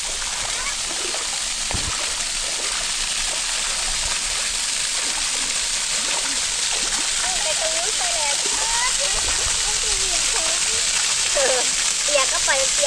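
Waterfall water splashes and rushes steadily at a Thai cave waterfall, a continuous loud wash with brief splatters, while people talk and call out over it.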